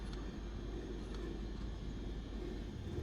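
Light aircraft engine in Microsoft Flight Simulator hums as a steady, low, rumbling drone at constant level, with no clear spool-down.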